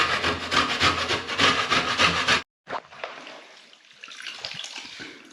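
Food being scraped and grated by hand on a cheese-type grater, a loud rhythmic rasping for about two seconds, then a pause followed by quieter, irregular scraping and wet rustling.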